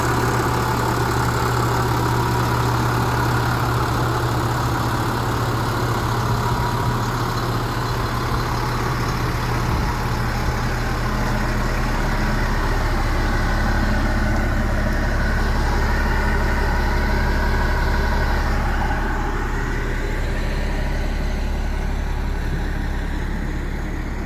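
A 2004 Blue Bird 3800 school bus idles outside with a loud, steady, low diesel rumble that holds unbroken throughout, close up and with no voices.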